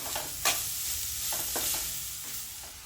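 Carrots sauté in ghee as a spoon stirs them in the pan, with a soft steady sizzle and a few sharp scraping strokes against the cookware, close and fairly quiet.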